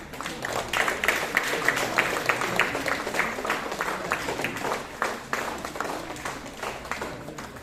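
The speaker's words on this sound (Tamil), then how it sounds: "உங்களுடைய கரகோஷம்" Audience applause at a Tamil award ceremony in Tiruppur honouring schoolgirls who recited the Silappathikaram, a steady, moderately loud patter of many hands clapping with faint background murmur throughout.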